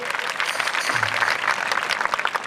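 A gathering at a Ram temple in Khodu claps warmly to welcome a revered Bapu at a religious discourse: dense, steady applause from many hands, filling the whole stretch with no voices over it.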